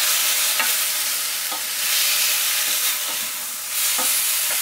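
Pureed tomato and eggplant curry stirred in a hot pan, a continuous close sizzle with periodic scraping strokes of the spoon roughly once a second.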